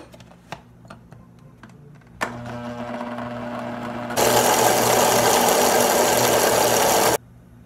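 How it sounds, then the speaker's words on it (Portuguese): A kitchen blender beats corn cake batter of corn, condensed milk and flour. After a few light taps the motor starts with a steady hum, then jumps to a loud, dense roar for about three seconds and stops abruptly. No one speaks. "Vamos bater esses ingredientes."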